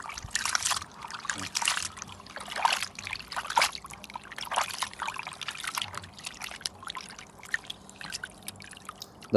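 Pieces of buffalo heart are washed by hand in water in a kitchen, with repeated sloshing, pouring and dripping in irregular bursts close by, with faint talk in the background.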